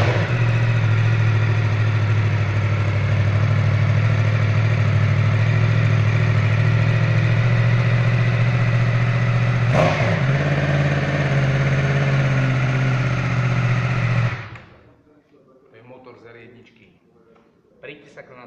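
A Yamaha MT-10 motorcycle engine idles loudly and steadily up close, with one quick rev partway through, then shuts off, leaving faint background noise.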